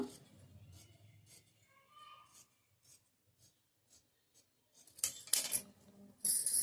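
Scissors snip through blouse fabric in short, quiet, intermittent cuts near the mic, with a few louder rasping strokes toward the end.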